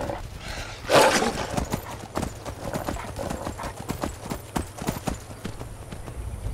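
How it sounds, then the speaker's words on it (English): A horse gallops in Skyrim Special Edition, fast rhythmic hoofbeats pounding close and loud throughout, after an initial louder whoosh, with a faint whinny-like tone in the mix. "Gallop horse."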